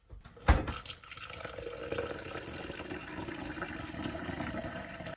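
Water and ice poured into a 32-ounce bottle already holding a dissolved energy, immunity and hydration vitamin pack; a sharp clunk opens a steady splashing pour that runs on alone for several seconds.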